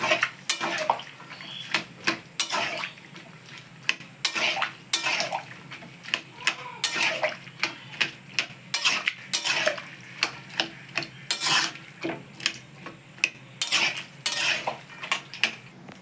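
Boiled potatoes and peas being stirred into ghugni in a pot: a close run of sharp clinking and scraping spoon strikes against the metal rim, irregular and fairly loud, over a faint wet background, with no voices.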